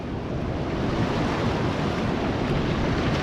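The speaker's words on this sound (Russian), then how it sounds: "Там вдали разбиваются волны, видите?" Waves breaking on a distant coral reef off the Dominican Republic, a steady broadband roar of surf with wind noise on the microphone, continuous and even throughout.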